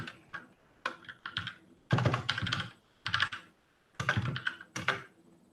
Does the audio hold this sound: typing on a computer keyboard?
yes